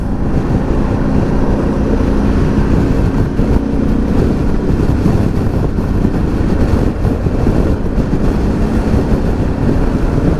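A Harley-Davidson Pan America motorcycle riding on the open road, with a steady, loud mix of engine roar and heavy wind rush that stays constant throughout and has no speech.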